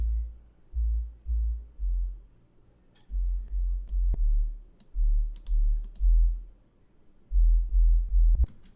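An amapiano bass synth programmed in FL Studio, its tone, thump and flange turned down, plays a deep, rounded low pattern of repeated notes in short rhythmic groups, loud and alone, with faint clicks above.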